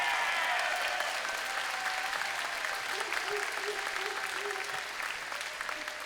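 An audience at a FIRST Robotics competition opening ceremony applauds steadily for several seconds, a dense, even wash of clapping that fades slightly toward the end.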